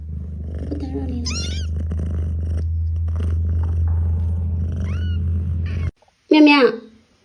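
A stray cat, heavily pregnant, meows repeatedly in short rising calls over a steady low purr, close by outdoors, with a loud final meow after a brief silence; someone talks to it in between.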